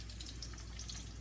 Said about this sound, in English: You guys see how it's frying up?